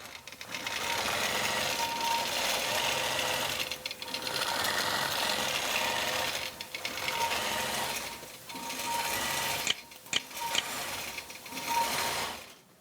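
A quilting sewing machine stitches heart patterns in long continuous runs, its motor whirring and needle clattering loudly, with short pauses between sections and choppier stops near the end.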